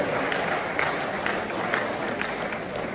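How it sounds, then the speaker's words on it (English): Audience applause in a hall, a steady wash of clapping from a crowd that holds at an even level for a few seconds, with voices mixed in underneath. "The applause should be more than this."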